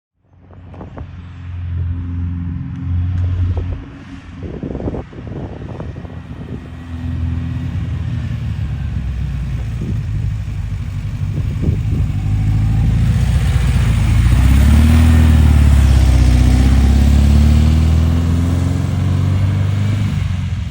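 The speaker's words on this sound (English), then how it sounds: "that's Gus the Bus, 1971 Volkswagen camper van" A 1971 Volkswagen Westfalia camper van with a pop-up top, its engine running loud and close, a steady mid-pitched drone that rises and thickens as it revs toward the end, with a few clunks early on and no talk.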